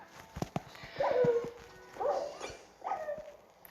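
Dogs in a video game let out three bursts of yelping, whimpering barks, each rising and falling in pitch, with no talk over them.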